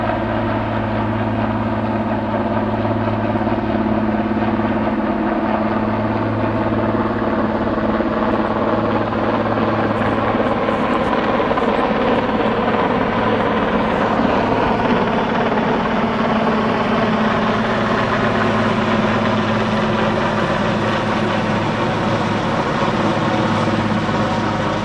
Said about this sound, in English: You see the helicopter is just arriving on scene.